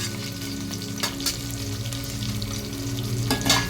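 Onion, dried red chili and garlic pieces sizzle steadily in hot oil for a Telugu ridge gourd and moong dal curry, with a few louder scrapes and clinks as a spoon stirs them; close and continuous, no talk.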